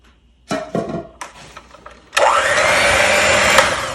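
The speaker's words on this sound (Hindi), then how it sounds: "अब जो है वो इसको हम मिक्स करना शुरू करेंगे।" Electric mixer whirring through carrot cake batter in a bowl, a few short clattering knocks first, then a steady loud motor hum that runs on without a break.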